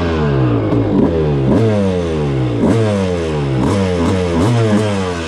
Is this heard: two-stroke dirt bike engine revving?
yes